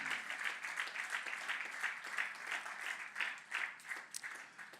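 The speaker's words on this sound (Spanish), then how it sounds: "Un aplauso al Señor fuerte" Church congregation applauding the Lord during a sermon, a steady dense wash of many hands clapping throughout, moderately loud and continuous with no voices standing out.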